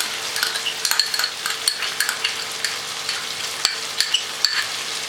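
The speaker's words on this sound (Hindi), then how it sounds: "अब हम इसको अच्छी तरह भूनेंगे।" Chicken karahi with yogurt sizzles and fries steadily in a wok-like karahi while a spatula stirs it, scraping and clicking against the metal in irregular bursts, close up, with no voices.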